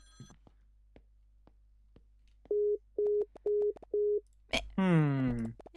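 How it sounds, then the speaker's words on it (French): A telephone line rings out unanswered, four evenly spaced electronic tones with short gaps after a few faint clicks, then a voice speaks over the end. "Y a personne sur la ligne, mais ça sonne"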